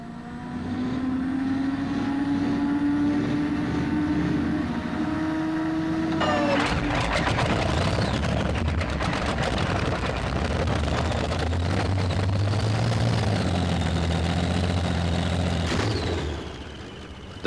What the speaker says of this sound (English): the V12 Allison engine tractor has become a very popular machine on the modified circuit